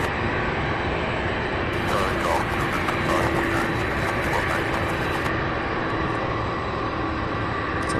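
An MD-11 airliner's jet engines drone steadily at an airport, a broad continuous roar with a hissing whine that swells through the middle and then settles, while voices talk over it.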